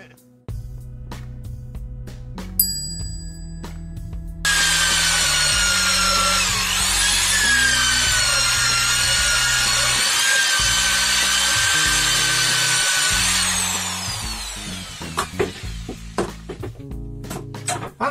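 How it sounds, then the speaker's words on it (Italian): A hole saw bores through wood, its loud, steady grinding whine running for about nine seconds before it stops, with clattering handling and knocks from the workshop before and after the cut. "Quando si fanno i buchi con la sega a tazza"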